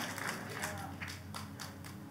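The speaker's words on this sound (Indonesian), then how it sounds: "Tepuk tangannya boleh yang paling meriah buat Tuhan kita." A church congregation applauds steadily, a dense wash of clapping that holds evenly from start to end under a low steady hum.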